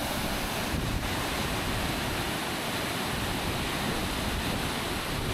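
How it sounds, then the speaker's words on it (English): Fast-flowing river rapids along a wild trail in Finland, a steady, loud broadband rush of water that stays constant and close throughout, with no voices. "That water sure is moving quick."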